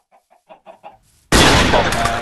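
Chickens in the Minecraft video game cluck in a short series of soft, evenly spaced calls, then a sudden loud burst of noise cuts in and holds to the end.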